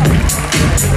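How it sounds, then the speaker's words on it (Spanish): At the Miss San Isidro 2015 beauty pageant, the audience cheers and applauds for a finalist in a dense, loud burst of crowd noise that fills the whole brief moment. "Fuerte el aplauso para ella también."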